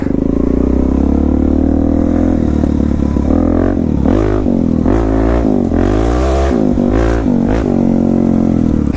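A Suzuki DR-Z400S dual-sport motorcycle rides a dirt trail, its single-cylinder engine loud and close throughout, rising and falling in repeated revs as the rider works the throttle through a curve.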